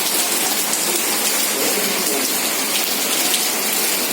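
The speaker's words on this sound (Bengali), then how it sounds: "বৃষ্টি পড়ছে আর মুসলধারে জোরে বৃষ্টি আজকে আবার" Heavy monsoon rain pours steadily outdoors, a dense, continuous roar of drops hitting surfaces at an even, loud level throughout, with no voices.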